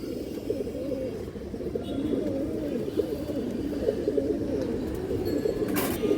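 Pigeons coo continuously in low, throaty rolling calls, several birds overlapping close by, with a brief sharp noise near the end.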